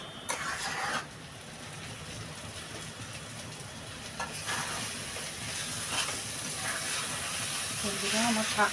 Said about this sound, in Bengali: এদিকে আমার শাকটা ভাজাও এখনও টাইম লাগবে